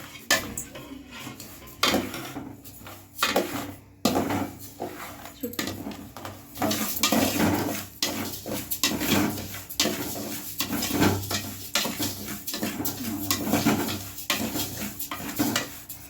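Thinai millet is dry-roasted in a pan on the stove, with steady stirring that scrapes and rattles the grains against the metal in a busy, continuous rhythm.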